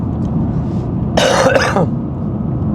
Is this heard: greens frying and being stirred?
no